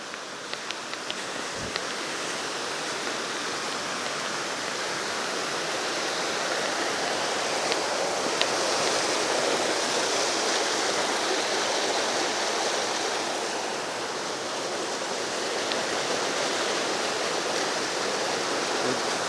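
A waterfall and stream pour into an old plunge pool in the Peak District in winter, a steady broad rushing roar that rises slightly mid-way, close and alone with a few faint clicks.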